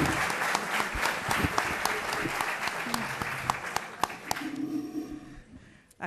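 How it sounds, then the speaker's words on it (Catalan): A lecture-hall audience at the Ateneu Barcelonès claps with dense, fairly loud applause that holds steady, then thins out and fades near the end, with faint voices underneath. "Aquest aplaudiment és pel jutge Santiago Vidal en tant que jutge."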